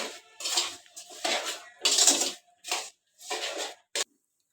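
Vermicelli being stirred with milk in a metal pot, a spoon scraping and clattering against the pot in several bursts with short pauses, close and fairly loud, no talking.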